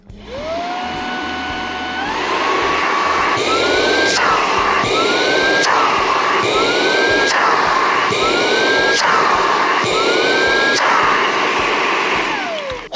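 Cordless stick vacuum, an inexpensive budget model, running in turbo mode: a loud, steady whine that repeatedly steps up in pitch as the motor revs, with a continuous airy rush throughout and no talking.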